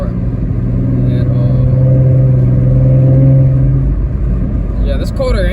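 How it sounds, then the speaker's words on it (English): A sports car engine with a K&N cold-air intake idles and runs with a steady, loud low drone and faint whistling hum, ending with a short scrape of movement; someone talks throughout. "this Cold-Air Intake, I don't know if y'all hear it, but it whistles just a little bit"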